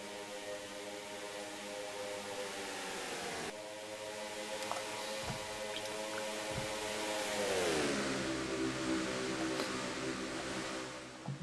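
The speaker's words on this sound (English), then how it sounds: "Gotta like those sounds of those cars around Charlotte Motor Speedway." Race cars roar around Charlotte Motor Speedway in a racing video game, a steady loud engine drone with pitch shifting as the cars accelerate and pass, no talk.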